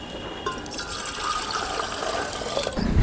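Water pours steadily from a small metal vessel into a pot while making wheat rava payasam, a continuous close gushing splash that holds for a few seconds before a brief knock at the end.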